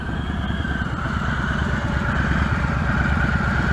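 A motorcycle engine running steadily during low-speed U-turn riding practice, an even, close throbbing drone that holds at a constant pace with no talking.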